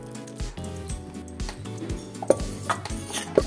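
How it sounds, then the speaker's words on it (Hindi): A spoon stirs besan (gram flour) halwa in a pan after sugar syrup is added, giving repeated scraping and light metallic clinks against the pan in an irregular rhythm, close and fairly quiet. "और हम इसको चमचा चला देते हैं"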